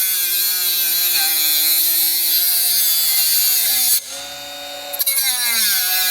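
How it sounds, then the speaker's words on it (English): Bosch GWS 12V-76 brushless cordless 76mm angle grinder cutting aluminum, a steady loud high-pitched whine that wavers in pitch as the blade loads up, briefly dropping off near the end before spinning back up. "aluminum is quite annoying to cut with grinders because it's almost like fixed to the blade"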